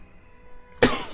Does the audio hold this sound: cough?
yes